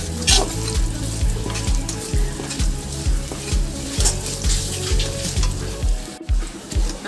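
Ginger paste fries in a pan for moong dal cooked with bitter gourd, a loud, steady sizzle with repeated low scraping strokes of a spatula stirring through it and no talking.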